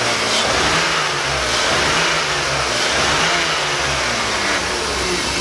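A BMW 325 engine revs hard and steady, a loud sustained roar close by with no pause or voices.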